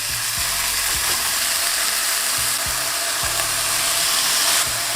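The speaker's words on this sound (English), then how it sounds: "Now to cook the burgers, turn up the heat around medium-high." Seasoned burger patties fry in a lightly oiled skillet over medium-high heat, giving a steady, loud sizzle with a few soft knocks and scrapes mixed in.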